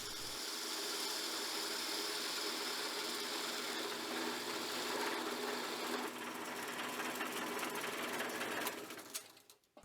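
A wood lathe turning a baseball bat whirs steadily with a gritty mechanical rattle, then spins down and goes quiet in the last second.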